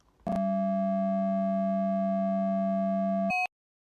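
A steady, buzzy synthesized tone from two multiplied oscillators with differing waveforms holds at one pitch for about three seconds, bright with many overtones, then briefly shifts and cuts off.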